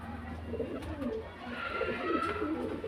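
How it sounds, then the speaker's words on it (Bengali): Murshidabadi Giribaz pigeons of an old breed coo softly and repeatedly, a low rolling murmur from several birds close by with steady ambient background and no talk. "একদম ওল্ড ব্রিডে মুর্শিদাবাদি গিরিবাজ পায়রা"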